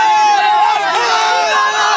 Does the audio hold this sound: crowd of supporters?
yes